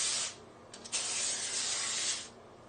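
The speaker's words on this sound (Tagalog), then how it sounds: "spray a little oil" Cooking oil spray hissing onto a foil-covered baking tray in a kitchen, a few close bursts of steady aerosol hiss with brief gaps between, heard alone.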